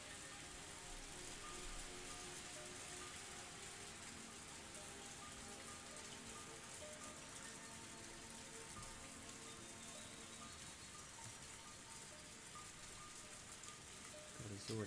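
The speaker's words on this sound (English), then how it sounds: "It was still raining hard." Heavy rain in a visual novel video game, a steady dense hiss of downpour drumming on a car roof, continuous and loud throughout with no letup.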